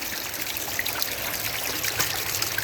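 Water at Greenville Falls trickles and rushes in a steady, continuous wash, nearby and fairly loud, with no voices.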